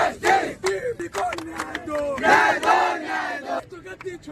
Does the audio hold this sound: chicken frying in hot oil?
no